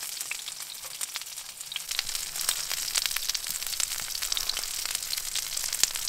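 A thick steak, about an inch and a half, sizzles and crackles steadily in a pan inside a hot tent during snowy winter camping, with a loud close frying hiss throughout and no voices.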